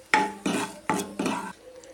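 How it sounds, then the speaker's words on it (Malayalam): Curry leaves and dried red chillies dropped into hot oil with spluttering mustard seeds for a Kerala mushroom thoran, four sharp bursts of loud crackling sizzle, each fading quickly, close up. "കടുക് പൊട്ടി വന്ന സമയത്ത് നമുക്കിതിലേക്ക് കറിവേപ്പിലയും വറ്റൽമുളകും കൂടെ ചേർത്ത് കൊടുക്കാം."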